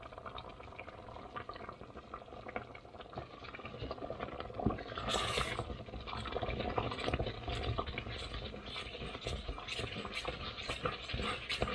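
Flour roux is stirred with chicken broth in a pot, a wet, bubbling churn with a spoon scraping and sloshing through the liquid, growing busier toward the end with a brief splashy burst midway.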